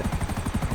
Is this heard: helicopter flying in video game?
yes